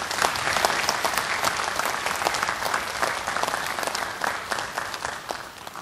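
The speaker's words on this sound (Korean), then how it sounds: "여러분 뜨거운 박수 부탁드립니다." Warm, sustained applause from a seated audience fills the hall at a Korean volunteer service awards ceremony, many hands clapping steadily and densely for several seconds with no talk over it.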